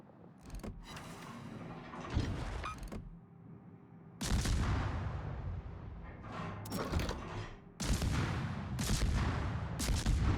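Naval guns fire in a World of Warships battle against a Johnston, a T9 American destroyer, with several heavy booming salvos and rumbling crashes that come in bursts between quieter gaps.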